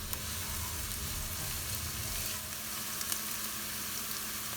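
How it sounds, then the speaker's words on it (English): Sliced onions for Bombay-style street egg bhurji fry in a pan, a continuous bright sizzle and crackle with a low bubbling undertone, steady and close, no voices. "now let the onions cook for at least 2 minutes"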